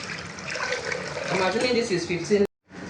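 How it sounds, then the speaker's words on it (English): Water poured into a container while liquid soap is being made, a steady splashing gush under ongoing talk that cuts off abruptly near the end. "I'll be pouring inside our 15 liters of water."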